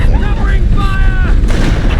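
Booming gunfire from the video game Halo: Combat Evolved fills a loud, dense burst of shots and blasts, with a voice briefly shouting amid the weapons fire.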